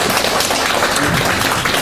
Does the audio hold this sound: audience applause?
yes